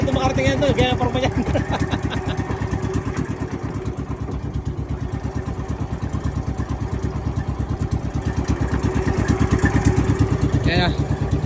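A motorcycle engine idles with a fast, even chugging pulse throughout, close and fairly loud, with a short burst of talk near the start and near the end on a road near Mauban, Quezon.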